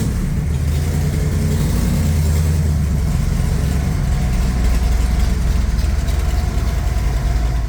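A 1965 Shelby AC Cobra engine rumbles loud and close, steady and heavy with slight rises in revs, with no voices over it.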